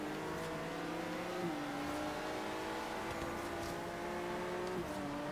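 A car in Forza Horizon 3 accelerates with a steady rising engine drone broken by two gear shifts, fairly faint and without talk.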